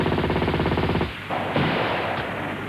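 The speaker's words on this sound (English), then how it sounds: "they've been fired on by a mixed force of" Sustained rapid automatic gunfire from a mixed force of tanks and infantry in a Soviet encounter battle, a dense rattling burst that breaks off briefly near the middle and then resumes in a rougher, heavier roll.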